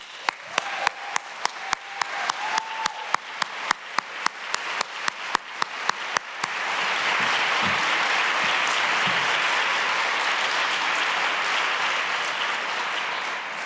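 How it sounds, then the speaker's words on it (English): An audience at a Harvard prison education event claps, starting with sparse, distinct individual claps that build over several seconds into steady, full applause and continue at a moderate level. "Could you all please stand and let us give you a round of applause?"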